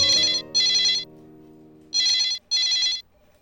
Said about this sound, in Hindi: मैडम सर, आपके लिए फोन है।